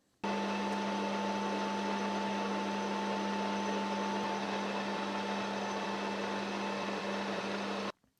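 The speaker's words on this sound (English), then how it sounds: "let's jump on the lathe and make this disc. So the first thing to do is square this off." A lathe facing off an aluminium disc for a spinning top runs as a steady, loud machining whir with a constant hum, starting abruptly and stopping near the end, with no talking.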